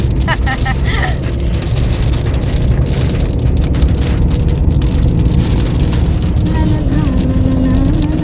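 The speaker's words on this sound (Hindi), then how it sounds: "कहीं पे कम है कहीं तेज है, लेकिन बारिश तो है।" Steady rain hiss fills the whole stretch, with a continuous low rumble like traffic or an engine beneath it and no clear gaps.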